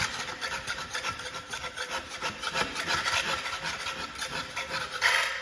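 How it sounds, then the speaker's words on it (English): A regular scraper rasps and scratches in quick, uneven strokes as it pushes leftover drywall off a barndominium floor, close and fairly quiet with no talk. "I'm taking a scraper, just a regular old scraper, and I'm getting up all of the drywall that's on the floor"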